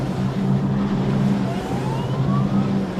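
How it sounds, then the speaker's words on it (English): Sirens wailing on the water during the Solas Big Boat Challenge 2016 on Sydney Harbour, a rising tone sweeping over a rumbling mix of boat engines and harbour noise. "The alarms are, the sirens are going."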